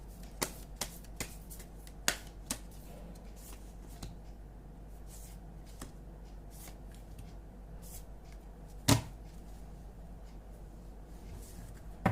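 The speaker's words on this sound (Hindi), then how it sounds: "अब मैं मैं ओवरऑल थोड़े से कार्ड्स निकाल रही हूँ आप लोगों के लिए" Tarot cards are shuffled and drawn by hand in a quiet room, heard as soft crisp snaps and flicks at irregular intervals with one louder slap near the end.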